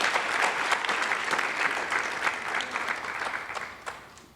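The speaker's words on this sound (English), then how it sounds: "Let's give all of them" Applause from a crowd at a key-to-the-city ceremony in Fort Myers, dense and steady at first, then gradually thinning and tapering off.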